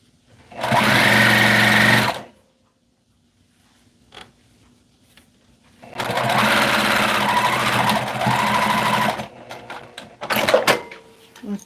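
A sewing machine stitches fabric in two long runs, a steady buzzing whir lasting a couple of seconds and then several more, with brief clicks and handling noises between the bursts and at the end.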